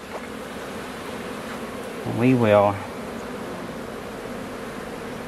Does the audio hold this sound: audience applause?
no